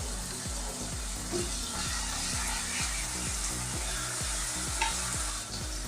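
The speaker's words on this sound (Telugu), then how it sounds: "తర్వాత కొత్తిమీర, పుదీనా వేసుకొని కలుపుకోవాలి." A spoon stirs coriander and mint through a bagara rice mixture frying in an electric cooker, rhythmic scraping strokes about twice a second over a steady close sizzle.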